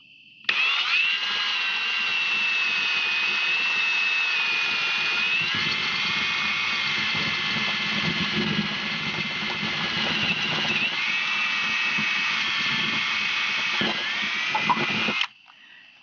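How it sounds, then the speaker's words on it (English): A power drill bores a hole through the rear door of a Hiker trailer, a door filled with white styrofoam, running as one loud, continuous whine with a shifting pitch for about fifteen seconds, alone and close up. "finish drilling this hole."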